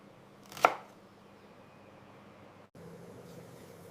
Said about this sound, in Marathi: आणि हिरवी मिरची ठेचून घेऊया